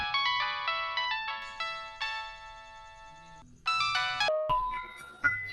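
A phone ringtone plays in bright repeating melodic tones, rising in short bursts and then changing pattern, loud and close in a quiet room with no talk over it.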